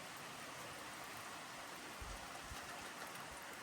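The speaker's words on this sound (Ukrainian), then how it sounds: "Ой, і дощ сильніше став." Steady outdoor rain hisses as an even, broadband wash, heavy and continuous over a few seconds, with occasional low thumps of drops striking nearby, and no voices.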